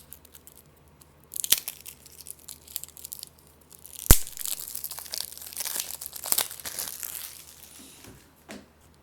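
A tightly sealed oracle card deck is wrestled open, with bursts of crinkling and tearing plastic wrap, sharp crunches and scattered clicks, close and fairly loud, then quieter handling toward the end.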